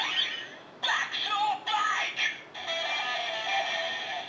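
Kamen Rider Bakusou Bike Gashat toy, a motorcycle racing game cartridge, sounding off with a short electronic rock-style riff: a few bright choppy bursts then a sustained tinny tone through a small speaker, heard close.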